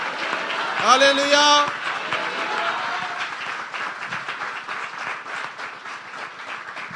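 A church congregation applauds during a sermon, loud sustained clapping spreading across the room while a man calls out over the start of it.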